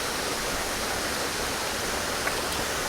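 Waterfall at the upper falls of a nature sanctuary, a steady, dense broadband rush of falling water that holds constant throughout, close and fairly loud with no voices.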